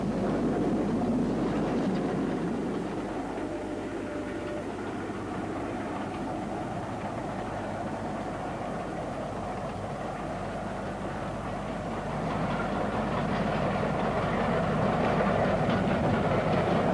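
A 1960 steam train double-headed with a pilot engine runs along the railway line, a steady loud rumble with rhythmic clickety-clack of wheels, continuous and close for the whole stretch.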